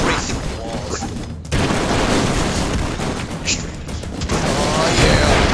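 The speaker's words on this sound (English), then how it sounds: "These guns break through the walls" Guns fire in rapid, chaotic bursts in the side-scrolling action game Expendabros, blasting through walls with dense crackling and booming impacts, loud and near throughout, while a voice speaks over the din.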